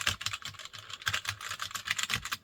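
Rapid typing on the mechanical-switch keyboard fitted to an N-Go ZX Spectrum Next clone, a close, steady clatter of crisp keystrokes in uneven bursts with no voices.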